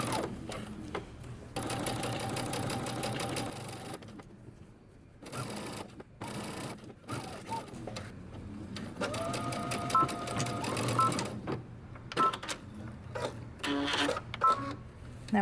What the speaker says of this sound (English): we're going to go to the sewing machine and we're going to stitch using 3/8 of an inch seam allowance